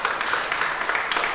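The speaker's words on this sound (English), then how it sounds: "And good applause for everyone, and thank you very much." Audience applause at a racing podium trophy ceremony, a short burst of loud, close clapping that runs from start to finish.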